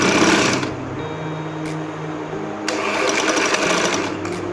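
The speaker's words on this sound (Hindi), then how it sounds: "इस तरह से इनको मशीन के नीचे रखेंगे और इस तरह से इसके साथ साथ सिलाई लगा लेंगे।" A sewing machine stitches lace onto fabric with a fast, steady mechanical whirr, close and loud, briefly slowing and restarting partway through.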